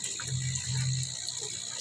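Aeration in a fish pond gives a steady, soft stream of bubbling and trickling water, constant and fairly faint, with no voices.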